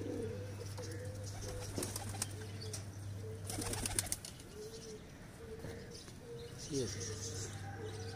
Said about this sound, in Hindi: देखिए कैसे खूबसूरत कबूतर है माशाल्लाह